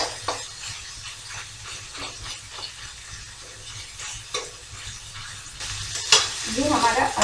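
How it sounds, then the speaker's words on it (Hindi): Garlic, green chili, ginger and onion fry in a pan with a steady close sizzle, broken by repeated scrapes and stirs of a spoon against the metal, the hiss swelling louder near the end. "लहसुन मिर्च, अदरक, प्याज इन सभी को थोड़ी देर तक भूनेंगे।"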